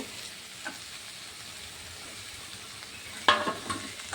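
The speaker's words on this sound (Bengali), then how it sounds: "এগুলো সবগুলো দিয়ে একটু টাইম কষিয়ে নিচ্ছি" Fish heads fry with spices, potatoes and pointed gourd for Bengali muri ghonto, a quiet low sizzle with faint occasional stirring, then a brief louder scrape and clink near the end.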